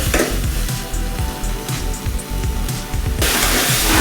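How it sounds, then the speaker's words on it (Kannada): Tamarind masala for a bendekai huli frying in oil, a dense close sizzle with soft crackles and a few stirring scrapes, louder hiss near the end. "ನೋಡಿ ಚೆನ್ನಾಗಿ ಫ್ರೈ ಆಗಿದೆ ಎಣ್ಣೆ ಕೂಡ ನೀಟಾಗಿ ಬಿಟ್ಟಿದೆ"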